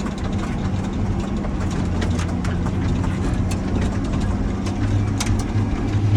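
An MTZ 892.2 tractor engine runs steadily as the tractor drives off, a loud, continuous low diesel rumble with a constant drone and no talk.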